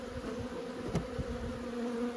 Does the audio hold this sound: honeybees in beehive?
yes